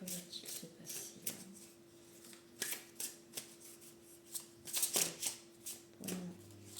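Tarot cards are shuffled by hand in a string of soft, uneven slaps and riffles, close and fairly faint, with a low steady hum underneath.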